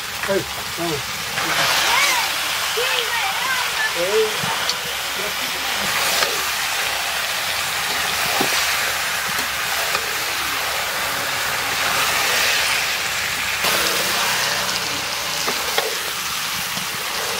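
Duck meat dropped into spiced masala in a pan over a wood fire, a steady loud sizzle and hiss of frying with stirring scrapes, while a person talks over it throughout.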